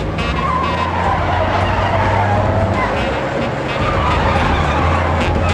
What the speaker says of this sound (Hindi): ए राधा, छोड़ना मत, पीछा कर।